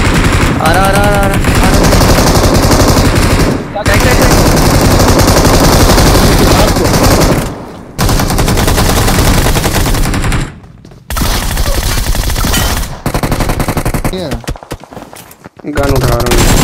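Gunfire in the mobile battle royale game BGMI, with rapid, loud bursts and automatic fire running almost continuously, broken by a few short gaps, while a voice talks over the action.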